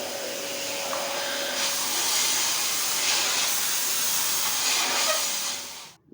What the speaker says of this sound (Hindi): वैक्यूम की आवाज़ सुन लिया आपने